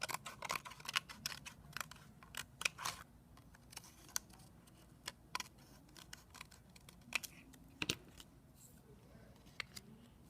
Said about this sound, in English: So I'm going to cut this so nobody can see the back part.